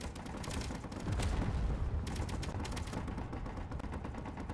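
Many guns with unlimited ammunition firing together in Space Engineers, a dense, continuous rattle of rapid shots that swells briefly and keeps going without a break.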